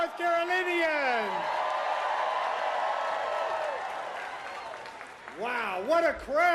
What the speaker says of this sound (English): Wow, what a crowd! You can hear you from the next block.